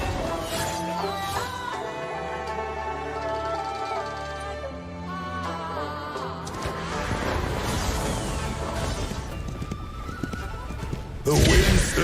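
Horses gallop in a video game, with whinnies and drumming hoofbeats building under a swelling orchestral score, ending in a louder crashing surge.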